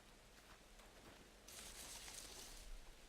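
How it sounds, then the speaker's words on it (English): Rain begins falling in the survival video game SCUM, a soft steady patter that swells into a louder, denser hiss partway through, with no talking over it. "Oh, it's starting to rain."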